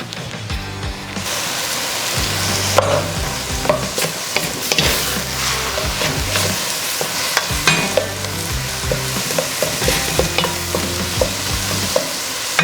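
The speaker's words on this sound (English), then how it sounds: "we're gonna go ahead and put a little bit of butter in there too" Butter sizzling on a Blackstone 22-inch E-Series griddle while a cheeseburger tater soup with bacon is stirred, a constant loud crackling hiss broken by repeated close scraping and clinking strokes of a utensil, without speech.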